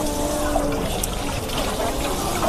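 Water pours from a cow-shaped stone spout at a Nashik temple, carrying runoff from the Shiva lingam, heard as a close, continuous splashing flow with faint background tones.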